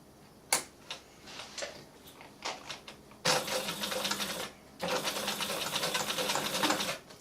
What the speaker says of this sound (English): The last step is just to do a little bit of top stitching around the edges of the triangle, very, very close to the edge